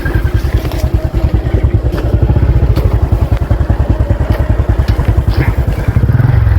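A motorcycle engine idles and revs in a Malaysian village, a loud, close, steady chugging with rapid even pulses and a slight clatter, running throughout with no talking.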